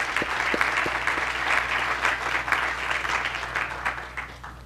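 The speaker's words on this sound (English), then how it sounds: "let's give them a round of applause as well" An audience at a groundbreaking ceremony for an early-childhood education center claps in a moderate, steady round of applause, fairly distant and even, fading slightly at the end.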